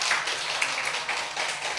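Children at a Korean church Sunday school service clap for a boy named Yunho, producing a short, faint patter of claps in a roomy space.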